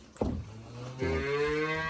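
Cows on a farm moo: a short low call first, then a longer, loud, sustained moo rising and holding, heard close with no talk.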